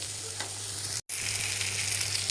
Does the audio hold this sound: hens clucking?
no